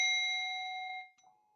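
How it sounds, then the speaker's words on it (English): A meditation timer gong strikes once with a bright, clear metallic ring, its sustained overtones decaying steadily for about a second before a soft secondary tap, heard alone in a quiet room. "That's my gong."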